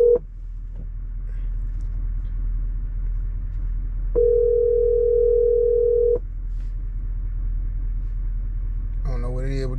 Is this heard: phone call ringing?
yes